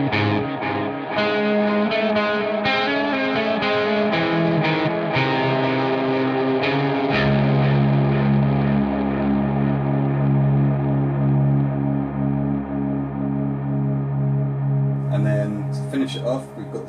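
Electric guitar chords ring out through a freeze-style delay pedal, the notes repeating and smearing into a sustained, swelling wash that holds steady, loud and continuous.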